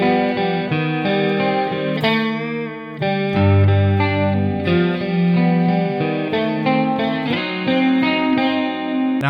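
An electric guitar with a distorted, effected tone plays a riff, with sustained chords and a melodic line moving in a continuous, loud phrase with no voices over it.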